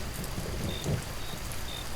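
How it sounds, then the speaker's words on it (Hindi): Heavy rain pours steadily in a stormy night setting, a loud continuous hiss with a low rumble of thunder swelling briefly in the middle. "बारिश झमाझम बरस रही थी।"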